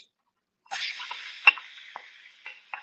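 Half an onion drops into a hot pan and starts sautéing, a sudden close sizzle that settles into soft frying with a few scraping stirs and small pops.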